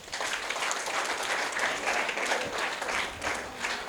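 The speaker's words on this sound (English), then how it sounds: "Please, a round of applause for him." An audience applauds at a school event, steady crowd clapping with many hands, sustained and even in loudness for the whole stretch, with faint voices mixed in.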